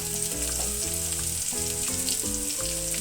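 Potatoes and eggplant fry in oil tempered with black cumin, giving a loud, continuous sizzle close by, with a melodic background tune playing underneath.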